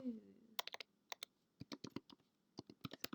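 Close, fairly quiet typing on a computer keyboard, with bursts of quick key clicks separated by short pauses, following a brief low murmur at the start.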